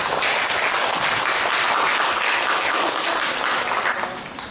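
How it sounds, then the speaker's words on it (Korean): An audience at a Korean lecture on Yi Sun-sin and the Battle of Busan applauds to welcome the speaker, a dense, even roar of clapping that fades slightly at the close. "박수로 맞아주시기 바랍니다."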